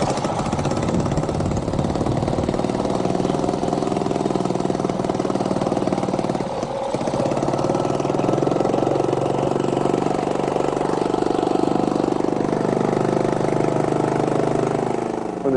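A steady engine runs continuously near the tailpipe, a constant mid-pitched idle hum with exhaust rumble holding at even loudness throughout, with one brief dip partway through.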